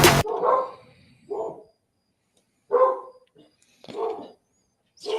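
Dogs bark in a game's battlefield setting, four or five separate loud barks spaced over a few seconds with silence between them.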